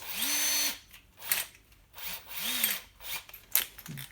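A power drill bores into a block of wood used as an anchor for removing a stuck, corroded battery from a Maglite flashlight, in several short whining bursts separated by pauses, close and fairly loud.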